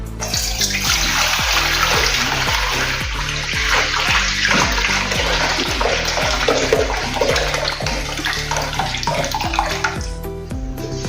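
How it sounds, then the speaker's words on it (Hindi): Water poured off soaked urad dal while the lentils are swished by hand in a kitchen, a steady close gushing and splashing with faint rhythmic sloshing throughout, no talk. "उसको थोड़ा सा हम ऐसे हाथ से ऐसे पहले हिला देंगे और इसका पानी निकाल देंगे ऐसे"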